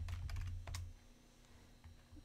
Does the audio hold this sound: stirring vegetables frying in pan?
no